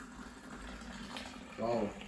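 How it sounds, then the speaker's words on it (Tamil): Homemade masala chai poured from a pan into a cup: a short liquid trickle near the end over a hiss of room noise. "இப்போ பாருங்க, நான் இந்த கப்பில் ஊற்றி காட்டுறேன்."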